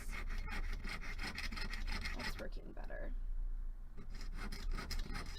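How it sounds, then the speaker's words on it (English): A hand saw cuts a darkened semicircle from a metal blank for a stamped bracelet hinge top, a steady fast rasping stroke rhythm that pauses briefly near the middle, with a short spoken remark. "I'm just sawing out this kind of darkened out semicircle to make my hinge top component"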